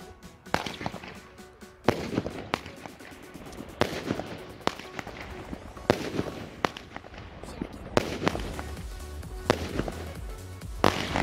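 A Dark Spirit Supreme 7 firework battery from Bilka fires in a rapid series of sharp cracking bursts, roughly every second or two, loud and close, with crackling between the shots.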